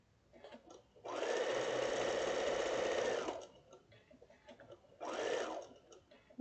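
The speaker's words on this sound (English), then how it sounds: "I'm trying to go a little quicker so that you're not just watching me sew for, well, I guess an hour" Sewing machine stitching quilt blocks, with two close bursts of rapid mechanical whirring, a long two-second run then a shorter one, among quiet handling sounds.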